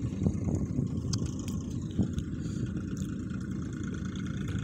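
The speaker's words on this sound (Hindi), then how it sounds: "इसको थोड़ा बैक करके सीध में लगा लेते हैं ट्रैक्टर" A tractor engine runs in a farming video game as the tractor reverses, a steady low rumbling drone with slight fluctuations, close and continuous with no talking over it.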